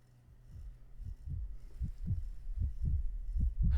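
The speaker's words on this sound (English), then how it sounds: "Oh, heartbeat pulse. Nice touch there." A heartbeat pulse effect from the video game Snowbreak thumps in a steady low double-beat rhythm, growing louder and more prominent over a faint hum.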